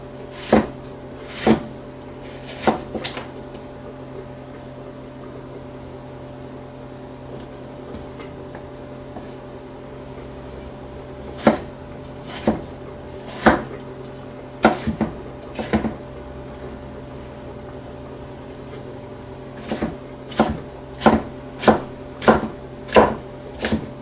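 Knife chopping tomatoes on a board for tongue tacos, arriving as sharp, separate cuts in short bursts with quiet pauses between them, close and clear with no talking.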